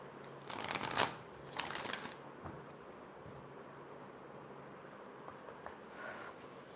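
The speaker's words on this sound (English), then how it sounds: "Let me just place these cards here." Oracle cards from a White Light Oracle deck are shuffled and laid down during a tarot reading, giving soft papery riffles and slides near 1 and 2 seconds, then quiet, faint handling.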